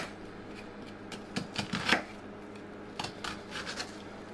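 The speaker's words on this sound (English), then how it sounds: "Then turn the onion through 90 degrees and make more slits." A knife cuts slits into an onion on a board, making a string of soft, quick slicing and tapping clicks in small irregular bursts, heard close and quiet.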